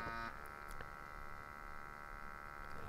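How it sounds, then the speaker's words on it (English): A small motorized sampling pump hums and buzzes steadily at low volume, an even mechanical drone with no talking. "the pump will begin operating"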